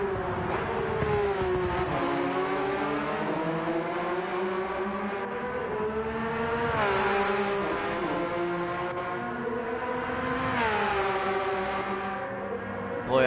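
Porsche race cars scream around the Nürburgring in a sim racing game, engines revving high and shifting through gears in repeated rising sweeps, loud and continuous with no talk.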